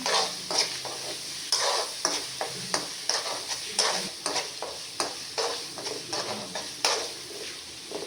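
Ginger garlic paste fries in a pan with a steady sizzle, punctuated by regular, close scraping strokes of a spoon stirring about once or twice a second.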